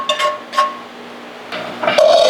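Mushrooms and pearl onions go into a pot of beef bourguignon with a few light clinks and knocks of a utensil against the cookware, brief and close, ending in a louder metallic scrape.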